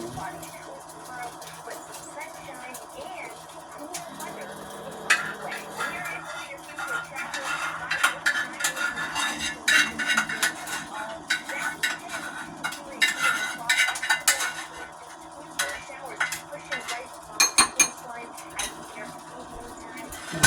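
A spoon scrapes and clinks against a pot and bowl as homemade gravy is ladled into a bowl in a home kitchen, with irregular metallic taps and scrapes and a soft background hum, while a person talks.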